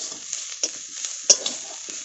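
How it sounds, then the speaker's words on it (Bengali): Chili powder and turmeric fry lightly in a pan with a soft, steady sizzle, broken by a few quick spoon scrapes and one sharper clink of metal against the pan. "এবার এই মশলাটাকে হালকা একটু ভেজে নিলাম"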